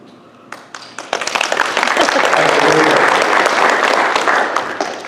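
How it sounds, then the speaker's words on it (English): An audience at a county community event applauds school system staff, starting with a few scattered claps that quickly swell into full, loud, sustained applause filling the room. "You all deserve a round of applause of what you do for the school system."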